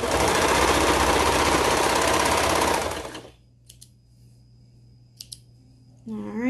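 A serger runs at speed, its knife trimming a folded fabric edge while sewing a bell sleeve top: a loud, dense, continuous mechanical whir for about three seconds that then stops, leaving quiet handling clicks.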